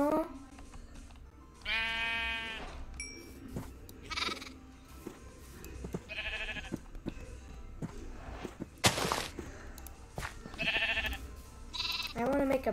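Minecraft sheep bleat in a series of distinct wavering calls, including a gray baby sheep, spread across the scene with soft thuds and footsteps between them, while a person speaks a brief word.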